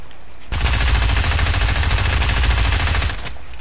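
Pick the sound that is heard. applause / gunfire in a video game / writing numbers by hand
gunfire in a video game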